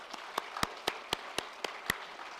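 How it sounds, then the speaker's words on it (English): A single person claps slowly and sharply at a virtual graduation ceremony, about nine distinct, evenly spaced claps, close and quiet in an otherwise silent room. "I think huge round of applause."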